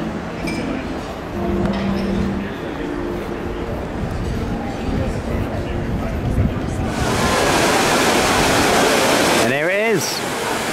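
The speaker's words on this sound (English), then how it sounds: "And there's the fountain." A fountain in Rome rushes in a loud, steady wash of splashing water that swells midway, with crowd chatter and a brief voice in the foreground.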